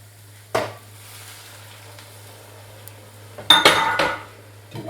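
A flour and stock mixture for Lancashire hotpot is stirred in a pan: a quiet low hum, then a sharp clatter of a utensil against the pot, and later a louder burst of scraping and clinking strokes, with no voices.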